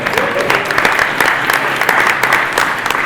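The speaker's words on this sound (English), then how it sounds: "let's give Kale a round of applause for running here with the last bit of whiskey" Lively applause from a DEF CON conference audience before the last talk, a close dense patter of many hands clapping with a few whoops, steady throughout.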